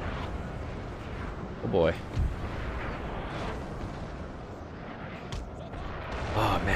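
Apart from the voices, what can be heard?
artillery fire in the video game Napoleon Total War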